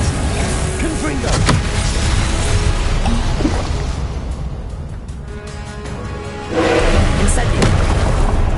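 Booming magical blasts from the Confringo spell in the Hogwarts Legacy video game, loud and continuous with a fresh burst near the end, layered with game combat noise.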